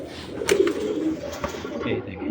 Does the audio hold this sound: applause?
no